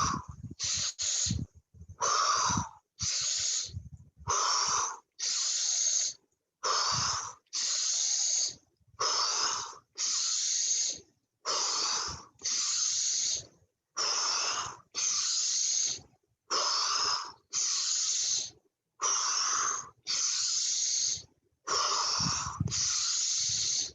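Deep paced breaths during a medical qi gong exercise, about twenty loud close inhales and exhales in a steady rhythm, each separated by a short pause, with no talking.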